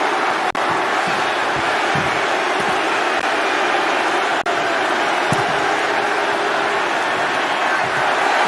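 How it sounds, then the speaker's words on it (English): Loud, steady roar of an arena crowd cheering during a WWE 2K25 wrestling match, continuous throughout with a couple of sharp thuds from the ring. "Mark is really getting the crowd going."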